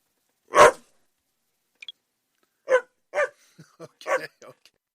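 A dog barks during a podcast recording: one loud, full bark followed by a scatter of shorter, softer yips and barks spread over several seconds, close to the microphone with no other sound between them.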